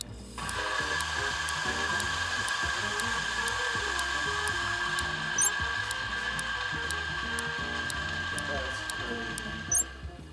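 Varia VS6 and DF83V coffee grinders run side by side at 1600 RPM, giving a steady mechanical whir with a high whine, regular faint clicks and a few brief rattles.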